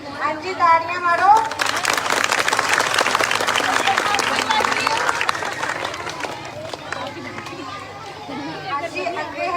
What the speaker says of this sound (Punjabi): ਹਾਂਜੀ, ਤਾੜੀਆਂ ਮਾਰੋ।